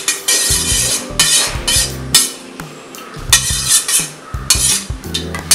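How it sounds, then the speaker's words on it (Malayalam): Lemon juice is stirred into milk in a metal vessel with a spoon, giving close, irregular scraping and clinking strokes in bursts with brief pauses between them, no talking. "ഇനി നമ്മളിത് പാലിലേക്ക് ചേർത്ത് കൊടുത്തിട്ട് നന്നായിട്ട് ഇളക്കുക."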